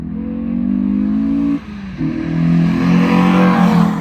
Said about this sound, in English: All the noise that comes from this car is from the engine.